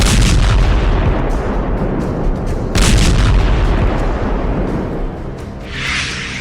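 Heavy booms and blasts from Russian S-300 missile strikes roll out as a loud, sustained, rumbling barrage with repeated impacts. A brief whooshing rush comes near the end.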